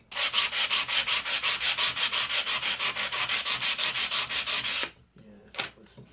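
An early timber framing chisel being filed with a hand file in fast, even back-and-forth strokes, about twenty rasping passes close up, then a pause and one final stroke.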